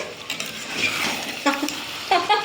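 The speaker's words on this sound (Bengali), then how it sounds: "এই মাংসটা কষানো হচ্ছে" Chicken pieces being sautéed and stirred in a pan, with soft scraping and clinking of a utensil against the pan over a steady background hiss, no talk.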